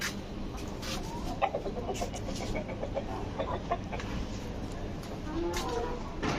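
Several chickens cluck softly and intermittently in the foreground while eating Malabar spinach, with faint bird chirps and outdoor background noise.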